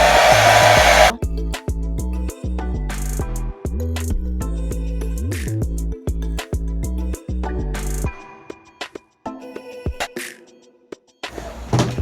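A hair dryer blows onto a lace wig cap, a loud steady whir that is switched off and on several times, shifting speed, then trails into quieter clicks and handling near the end.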